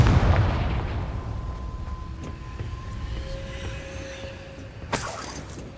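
A Confringo blasting spell explodes in Hogwarts Legacy, a deep booming burst with a rumbling tail that fades slowly, and a faint sharp crack follows near the end.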